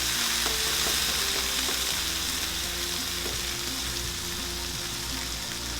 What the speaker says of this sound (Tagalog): Then we add in the dried shrimp.